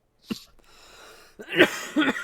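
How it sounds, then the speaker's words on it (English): A person coughs in a gaming livestream setting: one sharp cough, a brief rasping breath, then two louder coughs close to the microphone. "I coughed over you"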